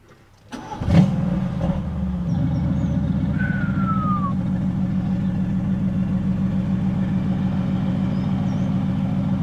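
A Stage 2 tuned Mercedes-AMG GT S engine of 605 hp is started with a push button, cranking and firing up with a sharp roar, then settling into a steady, throaty idle that drones on close by.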